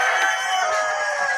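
Hens in a shed settle and scratch in rice husk bedding, giving a steady, close chorus of rooster-like crowing and clucking calls with no talk over it.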